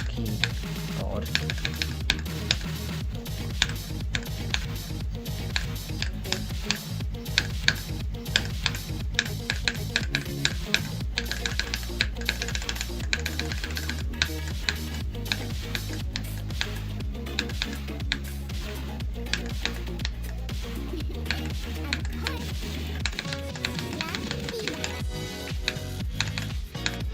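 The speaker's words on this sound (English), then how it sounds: "Now my hand's starting to hurt a little bit because of how much I'm smacking the keyboard." Computer keyboard keys are smacked in a fast, continuous stream of sharp clicks while a rhythm game is played. The clicks sit close over loud electronic funk music throughout.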